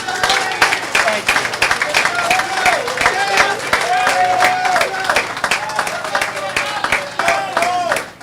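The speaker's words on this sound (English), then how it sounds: "Let's give him a round of applause." Crowd applause at an outdoor community feast and festival at a Columbus Lodge, steady clapping with some cheering mixed with background chatter and music-like tones throughout, fairly loud and continuous.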